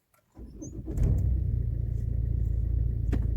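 A 2006 Renault Scenic with a 1.5 dCi diesel engine, started with a key card: a brief starter crank, then the engine catches and settles into a steady low idle rumble close by.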